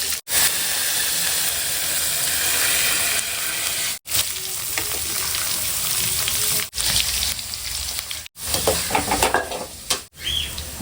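A mutton blood stir-fry fries hard in a pan, a loud constant sizzle and hiss with steam, broken by brief gaps and scraping, stirring movements, close up with no talk.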